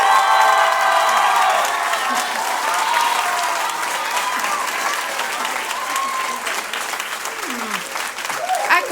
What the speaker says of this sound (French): que l'on donne une bonne main d'applaudissement à la personne responsable du programme de secondaire en spectacle de cette école